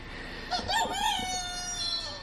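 A rooster crows once, a short close cry standing out over quiet background, with no talking.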